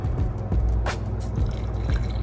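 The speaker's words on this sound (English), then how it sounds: "Pour our water." Water is poured while matcha is being prepared, giving a short steady liquid pour with light drips and splashes, close and alone with no talk.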